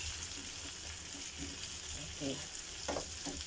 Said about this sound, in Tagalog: ilagay na natin yung ating shrimp. Haluin lang hanggang mag-change siya ng color.